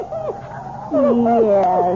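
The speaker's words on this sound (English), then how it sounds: "Yes, that's a good dog." A dog named Attila, tied up, whimpers in a series of high, wavering whines, close and fairly loud, rising in intensity in the second half with several quick sliding cries.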